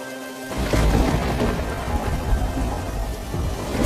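Steady heavy rain pours down with deep rolling thunder rumbling beneath it, starting abruptly after a brief quiet moment and continuing loud and unbroken, no voices present.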